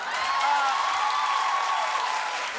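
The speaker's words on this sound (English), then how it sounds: "Stop with the clapping" Studio audience clapping and cheering on a daytime talk show, a steady full-room applause wash with a sustained vocal whoop riding on top, loud and unbroken from start to finish.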